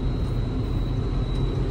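A tractor engine runs while discing a field, a steady low rumbling drone heard from inside the cab, loud and continuous with a faint high whine.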